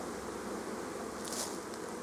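Honey bees hum steadily in a hive being rearranged for equalising, a dense continuous buzz close by with one brief louder swell near the end.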